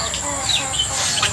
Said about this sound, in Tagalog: Tayo po ay pipili ng medyo malaki-laking manok.